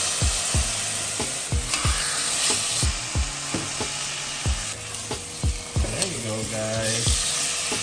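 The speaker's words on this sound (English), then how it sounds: "Then we'll pan grill our pork chops." Pork chops sizzle steadily in a hot pan while grilling, with a series of sharp scraping and tapping knocks from turning the meat punctuating the constant hiss, and a voice speaks briefly.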